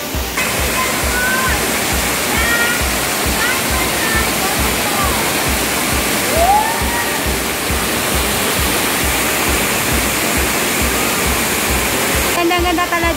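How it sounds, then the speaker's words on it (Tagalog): Ng Tung Chai waterfall roars continuously and loudly nearby, a dense steady rush of falling water, with faint bird calls heard through it. "Mayroon po ditong hidden falls."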